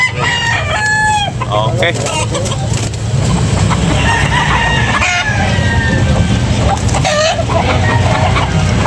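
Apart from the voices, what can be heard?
roosters clucking and crowing at a chicken market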